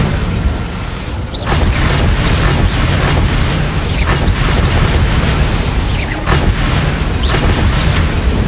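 An Incendio fire spell in the video game Hogwarts Legacy lets out a loud, roaring booming blast, a dense rumble with repeated crackling bursts that carries on without a break.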